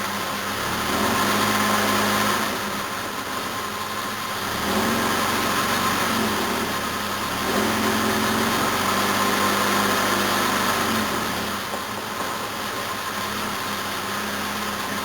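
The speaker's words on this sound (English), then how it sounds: "It's just been sitting here idling, it's not even warm properly." A Jaguar XJ6 Series 1 engine idles steadily and fairly close, a smooth low rumble with a faint mechanical hum that swells slightly in places, with no talking.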